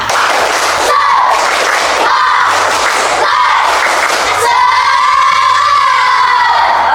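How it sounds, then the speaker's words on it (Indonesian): A class of fifth-grade schoolchildren performs a loud group spirit clap, rhythmic bursts of clapping mixed with energetic shouting and chanting voices, ending in a sustained collective yell. "Lagi sekali, tepuk semangat."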